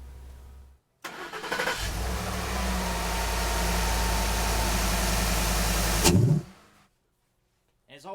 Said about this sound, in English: go ahead and start the truck.